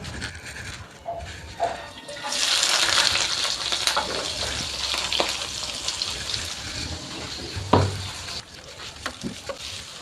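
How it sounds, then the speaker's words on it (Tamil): Onions, green chillies and curry leaves sauté in hot coconut oil in a pan, a steady close sizzle that swells after a quieter start, with occasional stirring knocks and no talking. "இப்போ வந்து நாங்கள் வெட்டி வச்சுருந்த வெங்காயம் பச்சை மிளகா கருவேப்பிலையை போட்டு வதக்கி எடுப்போம்"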